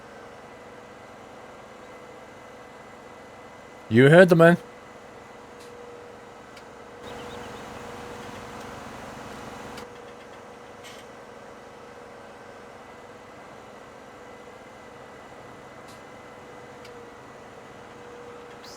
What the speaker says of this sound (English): How come you're in the pink tractor?